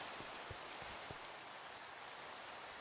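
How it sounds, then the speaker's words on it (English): Steady rain falls in a Minecraft world as a dense, even hiss with a few soft drop taps early on, continuous and alone throughout. "Nice chill Minecraft rain day."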